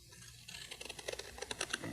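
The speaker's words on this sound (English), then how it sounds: "Take the scissors and first cut like that" Scissors snip through paper in a quick run of small crisp cuts, close and quiet, with no talking.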